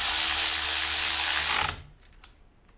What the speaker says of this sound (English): whenever you get a chance to use a Milwaukee power ratchet on a bike, do it